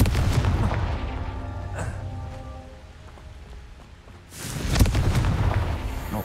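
A Confringo explosive spell cast in the Hogwarts Legacy video game bursts with a loud booming blast, followed by rumbling game noise that fades, then a second heavy burst near the end.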